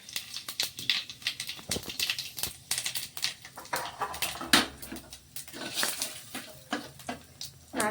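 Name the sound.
bay leaf, dried chilli, cumin and nigella seeds tempering in hot oil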